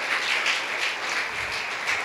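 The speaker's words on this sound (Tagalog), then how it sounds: "Kaya pwede po bang isang palakpak para po sa ating Panginoon?" Steady, full applause from a church congregation clapping in praise of God, sustained and even throughout with no speech.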